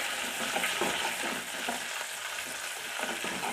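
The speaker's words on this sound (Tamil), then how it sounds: "இப்போ வெங்காயம் நல்லா வதங்கிட்டுருக்கு" Onions sauté in a pan for sambar, a dense close sizzle with quick stirring scrapes, steady and unbroken through a short stretch.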